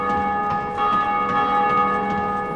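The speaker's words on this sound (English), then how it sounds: "There's a bell." A bell ringing in the game Dark Souls, sustained metallic tones with a clear strike partway through, sounding alone at moderate volume.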